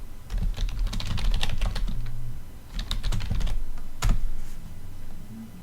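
Fast typing on a computer keyboard, close and clear: dense bursts of clicking keys with brief pauses between runs, over a low steady room hum and no speech.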